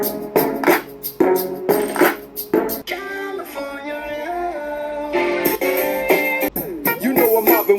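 Music plays through a compact square TRIMO Bluetooth speaker, a full mix with steady beat and sustained melodic tones, moderately loud and continuous with no talk over it.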